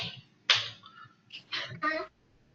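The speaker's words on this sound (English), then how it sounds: "Was that a clapping?" Several sharp hand claps sound in a quick irregular burst, one loud clap followed by a faint one and then two more close together, with soft background noise around them.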